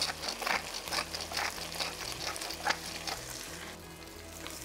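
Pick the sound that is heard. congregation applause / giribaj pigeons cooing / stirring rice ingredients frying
stirring rice ingredients frying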